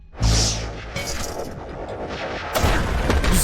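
Shots from a newly picked-up gun in a space Pac-Man style video game, starting with a heavy booming blast and followed by further loud impacts and rumbling, with no voices.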